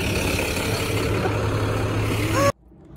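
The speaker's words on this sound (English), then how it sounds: "The bus is here. I hear it." A school bus arrives with a steady, heavy diesel engine rumble and a brief high squeal, held close and loud before cutting off abruptly.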